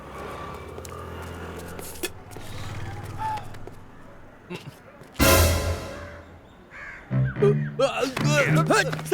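A crow caws in a series of harsh, close calls that follow a single sharp gunshot bang, with voices speaking over the scene.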